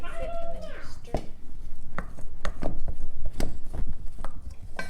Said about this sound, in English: And then you're gonna kind of slice it and chop it.